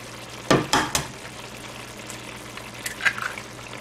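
A single egg drops into a hot pan and starts frying, with a few sharp bursts of sizzle early on and then a quieter steady crackle, plus faint clatter.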